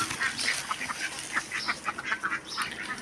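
Ducks quack again and again in a busy, overlapping chorus, close and fairly loud, with no talk.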